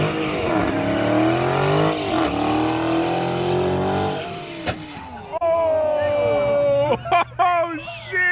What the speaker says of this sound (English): This is a donut.